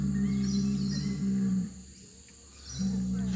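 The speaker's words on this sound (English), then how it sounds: "we've got a cow down here going up his head and doing a lot of mooing" A cow moos repeatedly at a campground in a nature park, long low calls in two clear bouts separated by a short pause, fairly near, with faint insect chirping behind.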